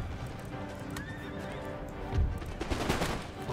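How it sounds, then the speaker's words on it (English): Horses neigh and hooves clip-clop amid cavalry fighting in the video game Empire: Total War, with distant musket volleys and a dense, continuous battle din underneath. "That's a lot of horses."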